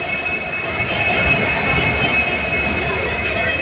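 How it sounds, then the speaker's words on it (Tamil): A train rolls along the rails on a trip toward Thenmalai, with a steady loud rumble and a high, sustained wheel squeal heard close by. "இப்போ நம்ம ட்ரெயின் ஏற போகிறோம்"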